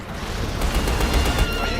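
Intense German gunfire in a Second World War battle, a dense continuous barrage of overlapping shots close and loud throughout, with no talk.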